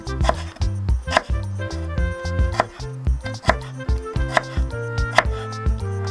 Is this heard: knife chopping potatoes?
yes